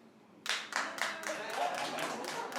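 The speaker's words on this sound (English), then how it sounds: "Clap if you believe he's innocent." A studio audience on a daytime talk show starts clapping after a quiet moment, building into a loose, rhythmic run of claps that holds at a moderate level to the end.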